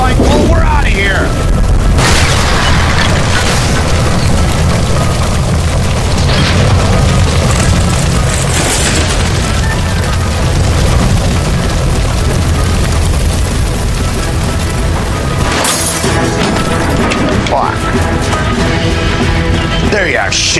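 A gas line explosion in the video game L.A. Noire, a loud, sustained roar of booming, crashing bursts that fills the whole stretch, with shouting voices mixed in under the blasts.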